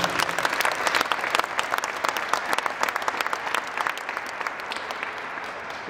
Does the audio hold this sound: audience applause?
yes